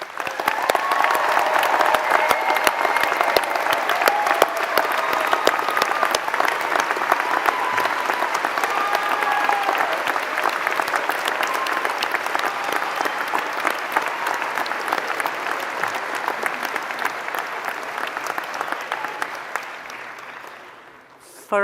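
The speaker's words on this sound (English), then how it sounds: "please join me in giving them a heartfelt round of applause" An audience applauds at a university graduation ceremony, dense and sustained clapping from a large crowd that holds strong for about twenty seconds before fading out.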